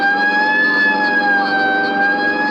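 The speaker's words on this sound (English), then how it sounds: "Right, I'll hit the siren." A loud police car siren in the Dragnet radio drama wails steadily and close, its tone sliding slowly, with engine rumble underneath and no voices.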